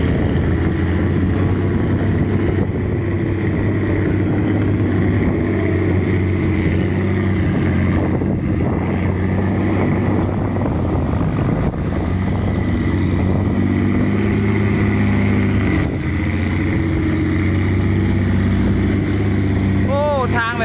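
A ten-wheel dump truck hauling dirt pulls off on a soft, muddy road, its heavy diesel engine roaring loud and continuous for twenty seconds with wind buffeting the microphone.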